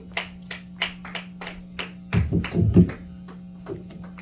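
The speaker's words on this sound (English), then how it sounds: "clap offering unto the Lord" Hand claps offered in a church service ring out first as scattered single claps at a loose beat, then swell briefly into a denser burst from several people before thinning out again over a steady low hum.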